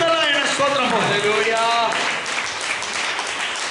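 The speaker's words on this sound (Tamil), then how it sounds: "கைதட்டு கைதட்டு" During a Palm Sunday church service, a congregation claps loudly. A voice speaks over the first half of the clapping, which then continues as a thick, steady wash of hands.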